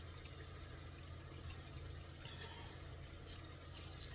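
Water poured from a tap over partly defrosted food to thaw it, a faint steady splashing and running stream with no talking.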